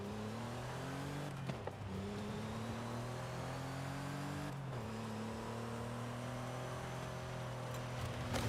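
A car engine in Forza Horizon 5, revving steadily with its pitch climbing through gears, briefly dropping at shifts, then pulling up again in a continuous droning whine.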